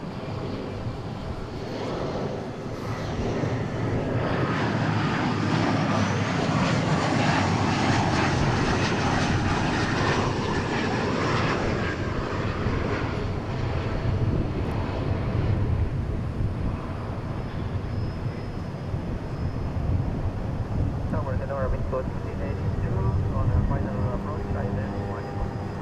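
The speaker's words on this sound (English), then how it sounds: "Got Aero Mexico coming in from Mexico City." An Aeromexico airliner arriving from Mexico City roars in to land at DFW Airport, its loud, steady engine rumble and whine sustained for the whole stretch.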